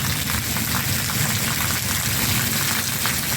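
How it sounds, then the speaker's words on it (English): Steady rain falls heavily in Mazatlán, Mexico, a dense, constant patter with no voices, close and enveloping throughout. "It's freaking raining."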